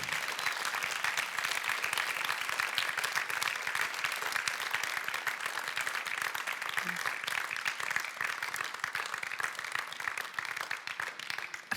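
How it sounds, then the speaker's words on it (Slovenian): Audience at an award ceremony applauding the winner, a dense, sustained wash of many hands clapping at a moderate distance, steady and unbroken throughout. "videla sem prej, da ste želeli še enkrat zaploskati današnjemu nagrajencu"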